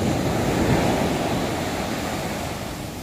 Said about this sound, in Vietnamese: sóng biển đánh lên tới đây luôn mọi người